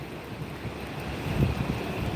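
Rushing water at a waterfall in a Bronx park, heard as a steady broadband wash with rumbling low surges growing a little stronger midway, wind-like and continuous with no talk.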